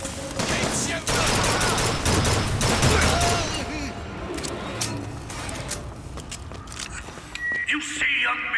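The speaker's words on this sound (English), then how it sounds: "Keep shooting!" Rapid gunfire in the video game BioShock Infinite, loud bursts of shots and fusillades crowding the opening seconds and thinning later, with a voice shouting over the battle.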